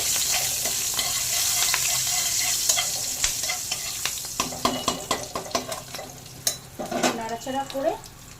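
Hilsa fish and slit green chillies frying in a pan, a steady sizzle at first, then repeated scraping and clattering as a utensil stirs them, close and fairly loud.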